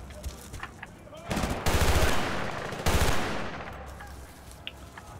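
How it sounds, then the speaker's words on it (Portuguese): Gunfire in the video game Battlefield: Bad Company 2: a loud, dense burst of rapid shots that swells twice over a couple of seconds, then fades into quieter ambient game noise. "A diferença de som da arma foi brutal."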